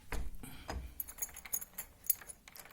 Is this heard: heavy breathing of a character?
no